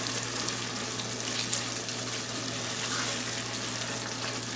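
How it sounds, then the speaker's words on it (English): Sausage mixture stirred into vegetables in a pot for Louisiana gumbo, giving a steady, even sizzling hiss that runs without a break. "we're going to add that to our vegetables and continue stirring around"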